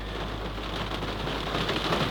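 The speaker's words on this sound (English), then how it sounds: "I'm down for a rainy day. I love this weather." Steady rain on a rainy day, a continuous broadband hiss with soft patter at an even level throughout, no voices.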